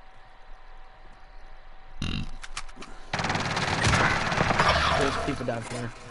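Rapid bursts of gunfire in a video game: a few sharp single shots followed by a sustained, dense automatic volley that stays loud and close, with no voices heard over it.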